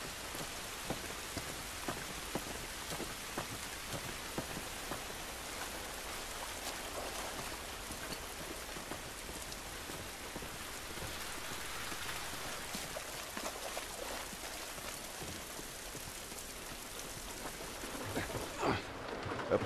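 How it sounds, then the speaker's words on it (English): Steady, dense rainfall in The Last of Us Remastered, an even wash of drops pattering on surfaces throughout, with occasional louder splashes and a low distant rumble, no voices over it. "This rain ain't gonna do us any good."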